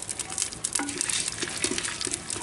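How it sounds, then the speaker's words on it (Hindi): Whole garam masala, bay leaves and whole garlic fry in hot oil for a chicken handi, giving a close crackling sizzle with clinks and scrapes of stirring in the pot. "साबुत गरम मसाला डालेंगे, दो से तीन तेज पत्ता, साबुत गोटा लहसुन डालेंगे"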